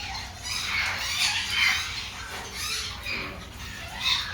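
Birds in a pet shop let out repeated high squawks and chirps, a busy, moderately loud chatter with no talking.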